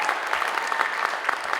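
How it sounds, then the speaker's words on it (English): Steady audience applause for a performer at a talent show, dense and even throughout the short stretch. "big round of applause for Colette."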